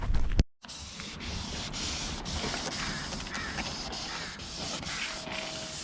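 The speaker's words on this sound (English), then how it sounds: "let's get a sanding." Steady, close scratchy rubbing of sandpaper over a surface after a brief bump at the start, continuous and fairly quiet.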